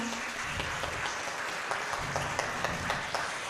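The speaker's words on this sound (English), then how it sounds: "Let's give them a round of applause." Applause from a church fellowship audience for a live band, a dense continuous clapping wash with scattered louder claps, sustained for the whole stretch with no talking.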